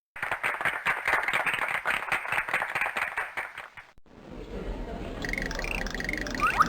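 In Freddi Fish 3, a crowd applauds with rapid, dense clapping for about four seconds, then stops abruptly and gives way to softer ambient sound with a brief bubbly, warbling tone.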